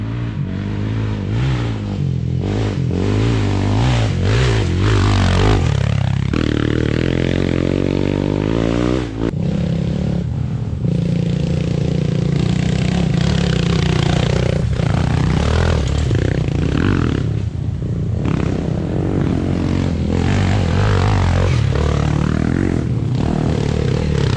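A motorcycle engine roars loudly and continuously, revving up and down with rattling and clattering, very close throughout.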